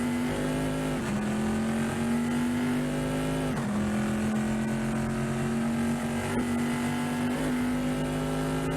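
Trans Am race cars in an esports racing game at Road Atlanta (Michelin Raceway) give a loud, steady engine drone that holds near-constant pitch, dipping briefly on a few upshifts as the cars run down a long straightaway.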